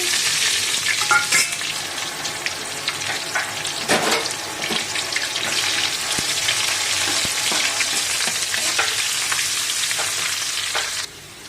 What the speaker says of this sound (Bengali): এখানে আমি অল্প করে কড়ি পাতা দিয়ে দিচ্ছি, তারপর পেঁয়াজ দিয়ে দিচ্ছি।